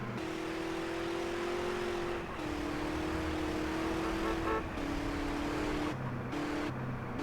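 A steady, droning car engine hum from the video game GTA San Andreas, with a flat, synthetic tone, holding pitch then stepping down in stages like gear shifts, continuous and fairly loud.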